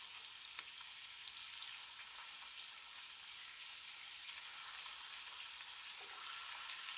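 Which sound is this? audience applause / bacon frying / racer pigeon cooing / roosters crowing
bacon frying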